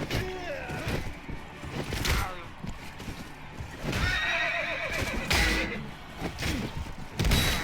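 In the video game Mount & Blade Warband, horses whinny and thud through clattering hoofbeats during a crowded mounted battle, with impacts and clashes mixed in.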